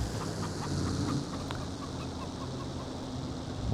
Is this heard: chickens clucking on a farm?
yes